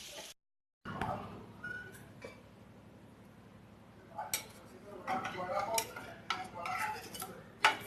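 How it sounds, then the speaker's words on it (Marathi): A lid comes off a frying pan of palak paneer tikki with light metallic clinks and scrapes, followed by soft sizzling and a few sharper clatters of cookware nearby. "फ्राय पॅनचं मी झाकण काढते आहे."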